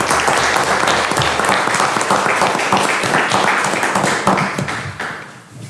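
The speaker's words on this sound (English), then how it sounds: "So we'd like to give a round of applause to all of our retiring educators and service personnel this year." Applause at a county board of education meeting for retiring educators and service personnel, a full room clapping steadily and loudly for several seconds before tapering off at the end.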